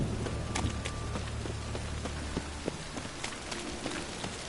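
Storm rain in The Witcher 3 video game, a steady patter of drops on surfaces with a few sharper splashes and faint hoofbeats, no voices.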